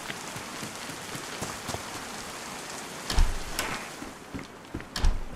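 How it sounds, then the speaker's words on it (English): Steady broadband rain patters across the open world of DayZ Namalsk, a continuous wash of drops on surfaces with a few louder close taps and rattles cutting through around the middle and end. "I hate the rain because it makes it sound like there's players running nearby all the time"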